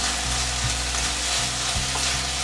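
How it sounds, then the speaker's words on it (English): Sliced vegetables sizzling in a pan for thukpa soup, a steady close frying hiss with a few soft scraping stirs of a utensil against the pan, no talk. "So we'll just saute this for a while, for around 30 seconds."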